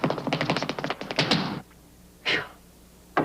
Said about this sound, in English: Next time you knock on wood, be sure it's Weld wood.